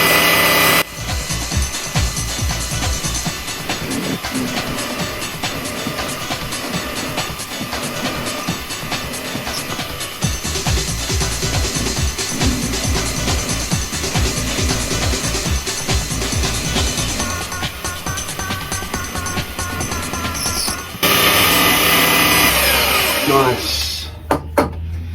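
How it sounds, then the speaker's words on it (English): A pillar drill bores a hole through a piece of deer antler for a homemade slingshot, giving a steady, close grinding whine with rough scraping bursts that runs for about twenty seconds before stopping abruptly. "I'm going to whack it on the pillar drill and sand it up."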